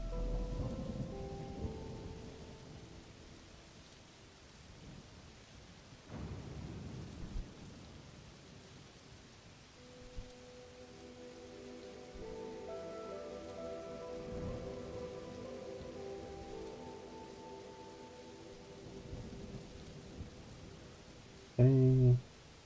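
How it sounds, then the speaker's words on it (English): Thunderstorm outside, steady rain pattering on a surface with low rolling thunder rumbles building and fading throughout, one louder burst near the end. "they can keep thundering outside."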